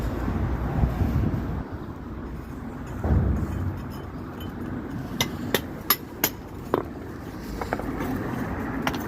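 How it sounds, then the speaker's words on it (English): Several sharp metallic hammer strikes on a bolster chisel, spaced irregularly near the end, over a low rumbling outdoor background. "which means good old hammer and bolster chisel is necessary"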